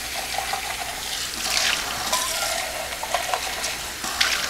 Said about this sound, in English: Best thing to always do, rinse out your cans before you throw them away.